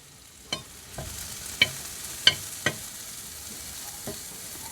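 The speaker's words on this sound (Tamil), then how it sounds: "சில்லி பவுட்ரு போட்டுக்கணும் அப்படியே சால்ட்டு போட்டுக்கணும் அப்படியே வதக்கணும்" Masala with chilli powder and salt cooks quietly in a pan; a faint sizzle runs beneath about half a dozen distinct spoon scrapes and taps spaced irregularly.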